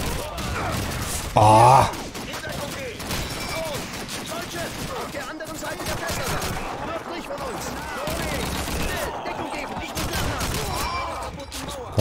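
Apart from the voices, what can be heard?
Gunfire barrage in the video game Call of Duty 2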